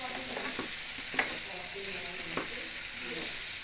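Pepper chicken curry sizzles and fries steadily in a pan, a spoon stirring through it with a few soft scrapes and knocks, fairly quiet and close.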